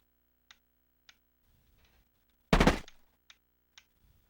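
A single sharp, loud gunshot blast from a video game, with a decaying tail, stands out among a few soft, evenly spaced ticking clicks in otherwise quiet surroundings.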